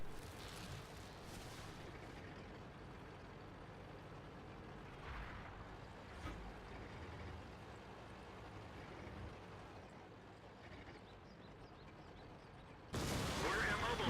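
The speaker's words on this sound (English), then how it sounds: "Yep, and there it was, the inevitably artillery hit." An artillery shell slams into an IS-8 heavy tank in World of Tanks: a steady, dense battle rumble with scattered distant thumps gives way near the end to a sudden, loud, broadband impact blast that stays loud.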